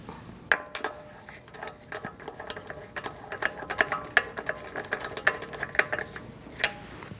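A socket ratchet turns a lug nut during front inner tie rod work on a 2008-2014 Mercedes-Benz C300, making rapid pawl clicks in short irregular bursts, close up, with no voices.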